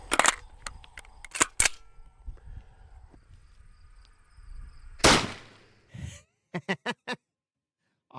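A 30-06 rifle fires at a coconut outdoors, giving sharp cracks near the start and a loud blast around five seconds, followed by a few short bursts of exclamation.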